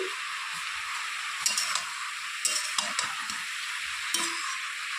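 Red cabbage with a little sugar being stirred in a hot cooking pan, a steady hissing sizzle broken by a few soft scrapes and clinks of the spoon, close and moderately loud with no talking.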